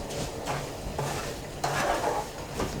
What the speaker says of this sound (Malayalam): നല്ലതുപോലെ ഇളക്കി പഞ്ചസാരയും റവയും കൂടി ഇതിലൊന്ന് നല്ലതുപോലെ ചേർന്ന് വരണം.